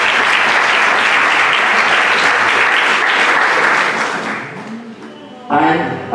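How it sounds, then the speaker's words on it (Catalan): An audience bursts into strong, sustained applause at a Catalan literary and theatre anniversary event, loud and dense before thinning out, with a voice speaking briefly near the end. "Un fort aplaudiment"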